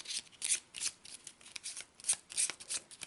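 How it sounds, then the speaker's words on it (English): Arkham Horror relationship cards being shuffled by hand, a soft, close series of rapid riffling and sliding bursts in an uneven rhythm, fairly quiet and with no talking. "So we'll give them a quick shuffle."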